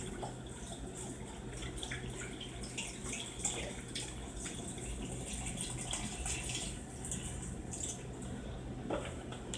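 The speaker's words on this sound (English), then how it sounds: "Pour the whole thing in there." Chicken broth pours steadily into a pot with a continuous splashing trickle and occasional drips, close by, with no talking.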